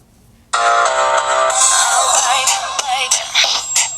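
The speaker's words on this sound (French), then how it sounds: "On va essayer d'écouter un petit peu de la musique." A pop song plays loudly from the small loudspeaker of a Ulefone Be One phone, starting abruptly after a brief quiet moment and continuing with a bright, mid-heavy, somewhat thin sound.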